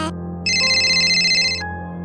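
A phone rings with an incoming call, a loud, close electronic ringtone of bright repeating tones over a steady low hum, with no speech.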